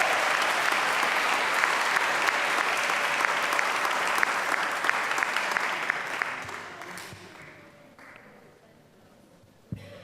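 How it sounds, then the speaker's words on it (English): Audience applause at a district attorney town hall in Alameda County, California, dense and steady for about seven seconds before thinning out and fading to quiet, with one sharp late clap. "I'd like you guys to give our young folks another round of applause"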